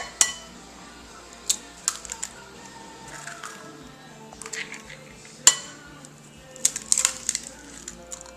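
Three eggs cracked one after another into a bucket of cake batter for a St. Patrick's Day cake, heard as several crisp shell taps and clinks spread across the moment, close and fairly quiet, with no talking.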